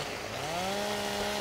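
A chainsaw cuts through a tree in Farming Simulator 15, a steady, loud engine drone whose pitch rises slightly as the cut begins, then holds even and continuous.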